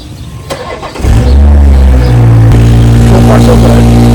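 A BMW 340i with the B58 engine cranks and catches, then settles into a loud, uneven idle with a slight wavering, heard close up.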